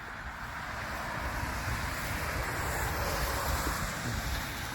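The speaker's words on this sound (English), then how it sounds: "Creek's running fairly decent today." Creek running fairly full beside a rural property, a steady broadband rush of water close by, mixed with wind buffeting on the microphone and no voices.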